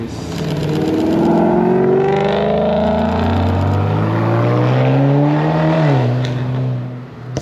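Rally cars and a pace vehicle pull up nearby, with loud engine drone and rising, shifting revs close to the listener and no speech over them.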